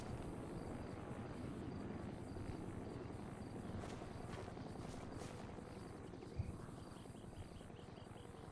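A helicopter in a French roleplay video game keeps up a steady, continuous rotor drone at constant level throughout, with faint high insect-like chirping above it and no talk.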